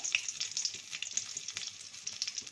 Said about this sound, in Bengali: সরষে তেলটা দিলাম, তেলটা প্রায় গরম হয়ে গেছে। শুকনো লঙ্কা ফোড়ন দিলাম,